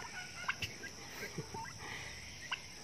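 A brooding turkey hen sitting on eggs gobbles in a few short bursts over a steady background hiss, with soft bird calls scattered between.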